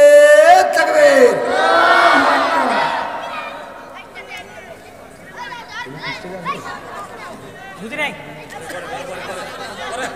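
A large crowd at a Bengali Islamic religious sermon shouts takbir together, a loud, swelling roar of many voices that rises sharply then trails into scattered murmurs and chatter.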